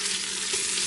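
Pork chops searing in a frying pan after being flipped, a loud dense sizzle with a steady hiss, brief and unbroken.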